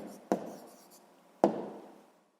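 A pen on paper while recording a distance answer in a sixth-grade maths exercise: two short, sharp scratching strokes, each trailing off quietly, close and fairly soft, with no voices.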